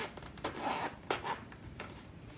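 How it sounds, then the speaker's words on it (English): A GoPro Hero 8 case being unzipped, giving several short, faint rasping zipper pulls in a quiet room. "so we're gonna unzip it"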